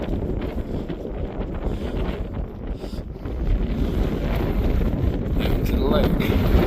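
Strong wind blowing outdoors on Steens Mountain, a steady rumbling buffet against the microphone that swells louder in the second half.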